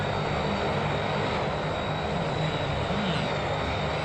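Airplane engine in the BeamNG.drive driving simulator, a steady, loud, droning roar with a constant whine on top, continuous and unchanging throughout.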